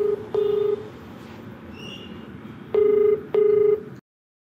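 Four short DTMF keypad tones beep in two pairs, loud and clean over a faint background hum, as a telephone call is dialed from a Telugu television advice program's studio.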